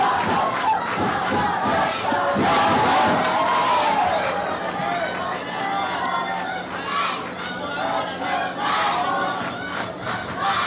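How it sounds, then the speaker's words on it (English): Crowd at a Little League World Series baseball game between the Philippines and Maryland chanting a player's name, a loud, sustained roar of many voices filling the stadium. "And the crowd chanting her name."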